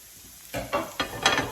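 Four chopped garlic cloves hit hot oil in a pan over low-medium heat for braciola, giving a sudden loud sizzle after near silence, then crackling that swells in repeated bursts as the garlic is stirred.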